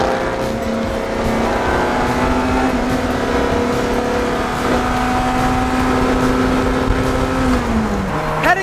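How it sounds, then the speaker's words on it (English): Ferrari 348 engine droning steadily while driving across a long bridge, a loud continuous hum with a sustained tone that holds and then drops slightly near the end, heard from inside the car with no talking. "So crazy, the car sounds so loud."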